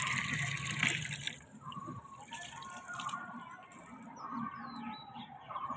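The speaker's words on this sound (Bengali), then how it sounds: "এদিকে জল পড়ে যাচ্ছে" Water spilling and splashing steadily onto a rooftop while plants are watered, a continuous wet gush with faint birdsong in the background and no talk.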